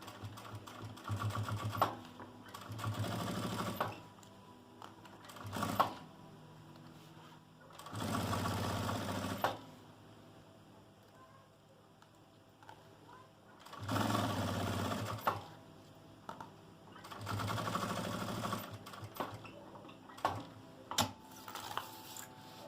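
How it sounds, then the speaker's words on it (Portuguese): A sewing machine stitches in several bursts along the edge of a pouch with a clear window, each run a steady, close whir, separated by short pauses and small clicks while the needle stays down and the fabric is turned. "eu paro minha agulha embaixo, levanto o meu calcador e viro. E sigo costurando bem na beiradinha."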